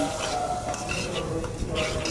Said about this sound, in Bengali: আদা, রসুন, জিরা, ধনিয়ার গুঁড়া সব কিছু দিয়ে দিছি, গরম মশলা দিয়ে দিছি। সব কিছু দিয়ে ভালো করে কষিয়ে নেব।